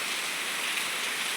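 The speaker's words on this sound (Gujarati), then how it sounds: "ભૂક્કા કાઢી નાખે એવો વરસાદ પડી રહ્યો છે" Heavy rain pours down in Banaskantha, Gujarat, a dense, steady hiss of water with no pauses, heard alone at moderate loudness.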